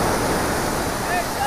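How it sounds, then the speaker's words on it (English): Ocean waves rush up onto a Florida beach at Delray on a day with little wind, a loud, continuous close-up roar of surf and washing water. "Look at this water just rush in, and these are really good sized waves considering the conditions."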